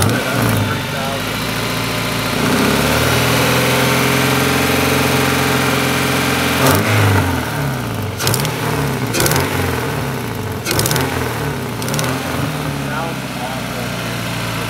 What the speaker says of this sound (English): Sounds like a lawnmower. The exhaust leaks are so bad.